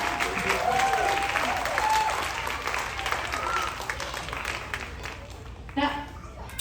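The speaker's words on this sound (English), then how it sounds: "can we get a round of applause for the cast and crew" A family audience on a cruise ship applauds the cast and crew after a Horton Hears a Who! story time. The clapping swells and then fades, with a voice talking over it.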